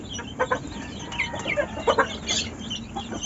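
Several farmyard chickens cluck nearby in short, uneven bursts, with a steady low background hum between the calls.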